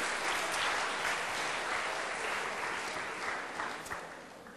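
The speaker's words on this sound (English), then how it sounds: "Okay, so another round of applause." A lecture-hall audience of university students claps steadily in a sustained round of applause that tapers off slightly toward the end.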